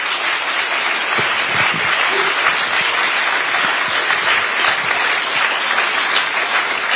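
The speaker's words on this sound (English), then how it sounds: "Please join me in applauding this wonderful panel for their contribution." An audience at the Raisina Dialogue 2024 applauds a panel with continuous, dense clapping that stays loud and even, with no voices on top.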